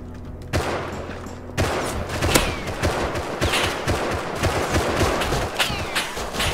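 A semi-automatic rifle fires in the survival game Rust, a loud burst of rapid, repeated shots close by over a dense background of further gunfire and rumble.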